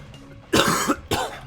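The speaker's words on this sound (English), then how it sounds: "I'm sorry if I have to cough" Two harsh coughs close up, the first longer and rough, the second short, with a quiet room in between and no talking.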